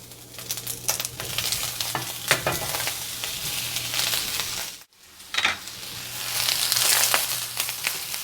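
Chopped onions and tomatillos fry in a hot pan for salsa verde, giving a steady loud sizzle with crackling pops. Stirring scrapes sound through it, and the sizzle breaks off briefly near the middle before picking up again.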